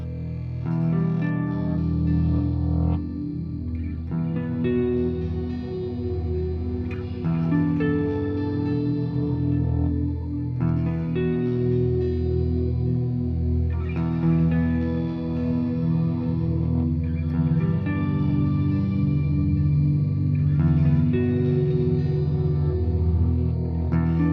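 Layered electric guitar parts through a Mooer Ocean Machine with chorus and echo play continuously, one looped phrase repeating beneath a second overdubbed line, steady and moderately loud.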